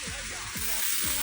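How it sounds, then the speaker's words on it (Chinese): Green beans hit a hot wok of oil with scallions in a rural Chinese home kitchen, giving a steady, loud broadband sizzle with a few scraping stir strokes, close up and without talk. "豆角下锅。"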